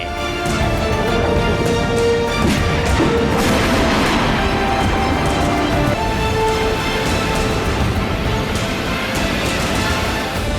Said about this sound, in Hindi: ये यूएस के बंकर बस्टर की गर्जना है।